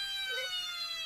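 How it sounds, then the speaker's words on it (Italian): A toy fire truck in a cartoon sounds a brief, steady electronic siren tone, high and thin, lasting about a second. "è solo il mio camion dei pompieri."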